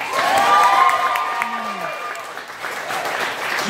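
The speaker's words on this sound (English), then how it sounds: "give her a round of applause for that" Applause and cheering from a comedy club audience in Tacoma after a roast comic's set, a dense wash of clapping with some whoops, fairly loud and steady throughout.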